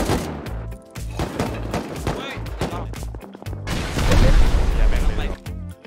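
Gunfire in the video game Rust rattles in rapid close bursts of automatic shots, loud and uneven, with a heavier sustained volley toward the end.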